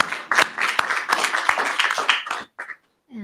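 An audience applauds at a Writers Week Lifetime Achievement Award session for Percival Everett, with dense, loud clapping that holds steady and then tapers off, followed by a brief voice at the end.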